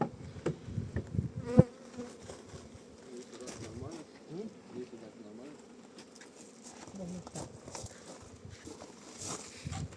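Honeybees fly around their hive outdoors with a steady, moderately loud buzzing hum throughout, joined by occasional nearby thumps and rustles, while people talk quietly over it.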